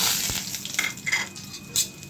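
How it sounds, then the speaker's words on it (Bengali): Black gram dal tipped into hot oil with bay leaf and five-spice tempering, a short burst of close frying hiss with a couple of brighter crackles and a faint clatter. "মাসকলাইয়ের ডালটাও দিয়ে দিলাম।"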